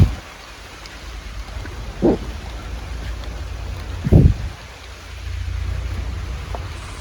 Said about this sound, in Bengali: তবে সব অবশেষে দেখেন বৃষ্টি চলে আসলো